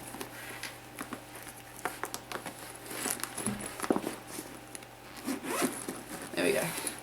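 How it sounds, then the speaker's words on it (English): A zipper on a small crochet craft bag is pulled closed in several quick, raspy strokes near the mic, mixed with handling rustles and brief talk. "I'm just going to zip this up."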